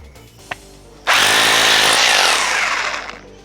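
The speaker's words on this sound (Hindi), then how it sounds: "चलो आओ 10 mm की बिट देखते हैं कितनी जल्दी होल होगा दीवार में।" A BUILDSKILL hammer drill with a 10 mm bit bores into a wall: a small click, then the motor bursts into a loud, harsh, rattling roar for about two seconds before winding down.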